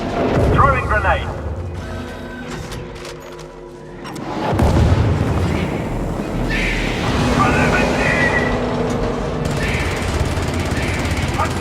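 Grenade blasts and gunfire in a video game, heavy booms near the start and again around the middle, followed by continuous rumbling battle noise with brief spoken callouts.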